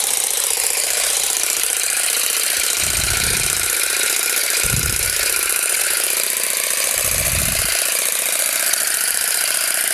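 An electric hedge trimmer cutting a thuja hedge into cone shapes, giving a loud continuous buzzing drone with a few brief low thumps where it bites into the branches.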